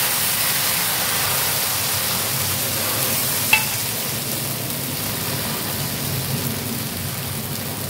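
Bajra (pearl millet) dosa batter spread on a hot, onion-rubbed pan gives a steady, broadband sizzle that holds evenly throughout, with one brief sharp click partway through and no talking.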